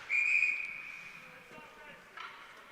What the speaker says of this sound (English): Now a whistle goes